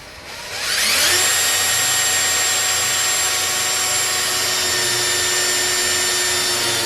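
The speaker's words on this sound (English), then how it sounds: "I'm using this bevel drill bit to start the hole." A power drill fitted with a bevel bit spins up to start a hole in a saw-blade baseball bat build, settling quickly into a loud, steady high whine that carries on alone.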